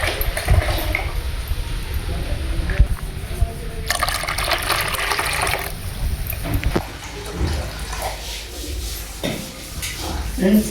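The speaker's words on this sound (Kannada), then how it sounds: "ಕಲಿಸ್ಕೊಂಡು ನಮ್ಗೆ ಎಷ್ಟು ಬೇಕಷ್ಟು ನೀರು ಹಾಕಿರ್ತೀನಿ" Water is poured into a mixed fish curry base for fish saaru, a close, intermittent splashing and trickling with some rubbing and stirring, fairly loud throughout.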